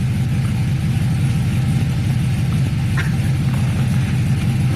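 A 2000 Chevrolet Silverado pickup engine idling in a garage gives a steady, even, low rumble that stays constant throughout with no revving.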